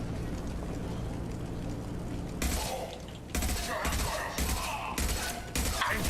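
A sudden burst of gunfire in the Mass Effect 2 video game breaks in after a steady low hum, with several loud, sharp volleys close together near the end.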